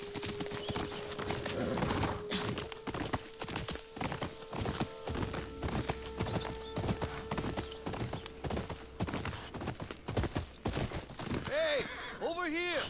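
Horse hooves clip-clopping in the video game Ghost of Yotei: a steady run of hoofbeats close by under a sustained musical tone, with a voice speaking near the end.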